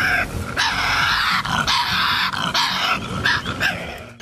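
Harsh, raspy growling and screeching from a Tasmanian devil, continuous and loud with rough rising shrieks and guttural rumbles close by.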